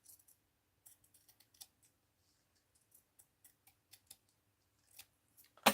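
Scissors snip paper at an art-journaling craft table in a run of sharp, separate cuts, some quick and close together, then a sparse pause, ending with a louder rustling clatter.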